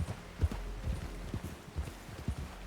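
Hooves of a horse in Red Dead Redemption 2 clip-clop in a steady walking rhythm, close and moderately loud, with faint talk in the background.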